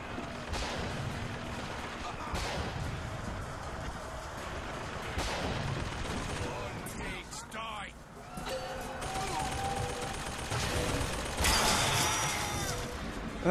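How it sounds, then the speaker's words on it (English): Gunfire and mechanical clatter in the video game Bioshock Infinite, scattered shots and ratcheting weapon sounds amid a busy layered soundscape, with a voice speaking over it. "Where am I getting shot from?"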